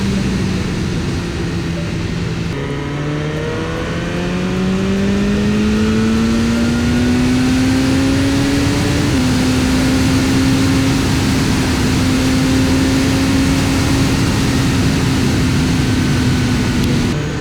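A BMW S1000R motorcycle laps a race track, its engine note climbing steadily through the gears with a rising whine and a brief dip at a shift, loud and sustained throughout with no talking.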